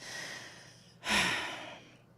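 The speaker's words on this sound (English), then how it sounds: "take a deep breath" A single deep breath drawn during a guided spiritual meditation: a soft, airy inhale swells near the mic and fades slowly, with a quieter breathy hush before it and no talking.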